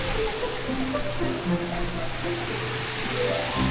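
Water rushes steadily over the rocks of a shallow stream with a stony bed, a continuous broadband wash at close range, with faint voices in the background.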